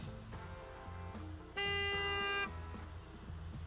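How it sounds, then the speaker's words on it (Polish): Car horns at a gas station in the Gas Station Simulator video game, one loud sustained honk of about a second standing out over steady game background hum and softer horn toots. "Nie wiem, kto na kogo trąbi teraz."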